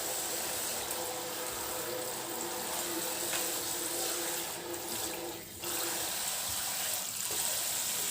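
Tap water runs steadily into a sink while frozen chicken is washed, a loud continuous splashing rush that dips briefly before resuming.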